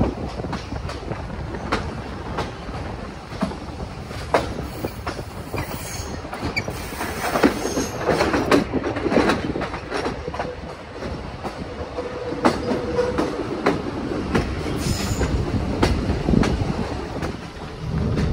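A train runs along a Hungarian railway line, with a loud, continuous rumble of wheels, rhythmic clickety-clack over the rail joints and occasional wheel squeal, heard without any talk.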